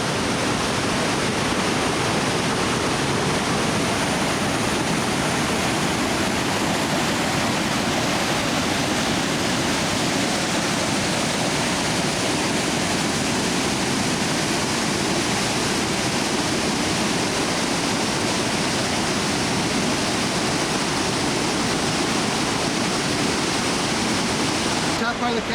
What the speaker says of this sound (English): Is that not a breathtaking sight of running water or not?